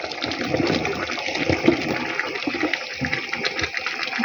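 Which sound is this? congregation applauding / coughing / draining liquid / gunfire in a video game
draining liquid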